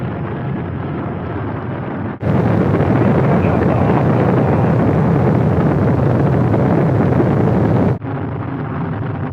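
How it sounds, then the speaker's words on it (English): Rocket engines roar at liftoff as a loud, dense broadband rumble bursts in suddenly, holds steady for several seconds, then cuts back to a quieter background hiss. "All engines running. We have a liftoff."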